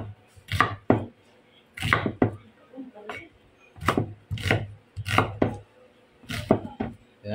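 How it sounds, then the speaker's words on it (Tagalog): An onion is sliced with a knife on a cutting board, giving a series of close, crisp cutting knocks in irregular pairs and clusters, with quiet gaps between them and no talking. "hiwain lang natin yung ating sibuyas"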